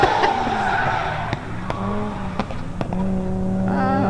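A drift car at the Nürburgring Driftcup downhill round, its engine held hard against the rev limiter in a rapid stuttering buzz, with a whining tone and sharp popping bursts, close and loud, while a commentator talks.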